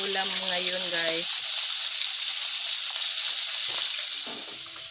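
Fish frying in a pan at breakfast, a steady broadband sizzle running throughout, with a voice over it at the start.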